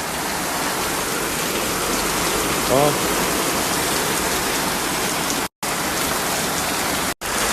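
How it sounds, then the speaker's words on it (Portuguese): Heavy rain pouring down steadily outdoors, a dense, loud hiss with no letup, while a person briefly speaks over it. "Meu Deus, a chuva. Olha pra isso."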